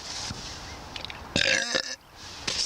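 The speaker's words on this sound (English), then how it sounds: "excuse my burping" A man's loud, close burp rumbles through mid-clip, with a few smaller throat sounds around it and faint room noise otherwise.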